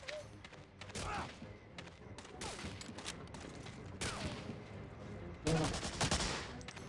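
Rapid bursts of gunfire crackle repeatedly in the PC game Medal of Honor: Allied Assault, with automatic volleys and sharp shots overlapping in a dense, loud exchange.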